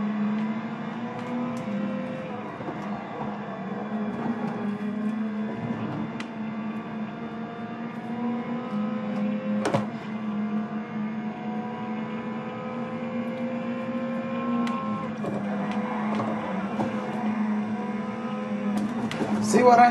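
A BMW race car engine holds a steady, droning rev at the start of a race, with occasional sharp blips and other cars nearby, continuous and close throughout.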